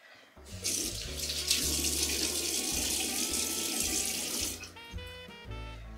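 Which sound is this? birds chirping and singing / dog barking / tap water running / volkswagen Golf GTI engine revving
tap water running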